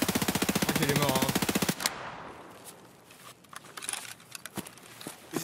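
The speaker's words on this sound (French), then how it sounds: "Et je tire au hasard" Automatic gunfire in the shooter game Escape From Tarkov, a loud rapid burst of shots for under two seconds, then fainter scattered pops and clicks.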